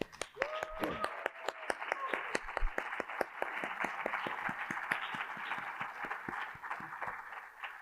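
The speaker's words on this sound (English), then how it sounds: "Please join me in a round of applause to thank Dean Khurana for his service to Harvard College." An audience at a Harvard College midyear graduates celebration claps in a round of applause for the dean, with distinct sharp claps over a steady patter that gradually thins out, a voice briefly audible at the start.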